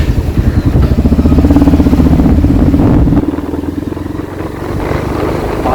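A motorcycle engine runs close by on a drizzly Kerala road, a loud, steady throbbing that drops to a lower, rougher idle partway through, with no voices.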